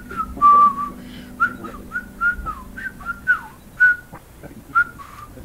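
A person whistles a short, wandering tune in a series of clear, loud, close notes and brief phrases separated by small pauses, with no talking.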